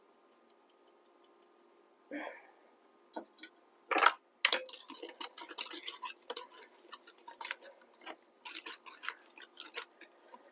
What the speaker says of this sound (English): Now, I like my Danish dough hook for mixing like this.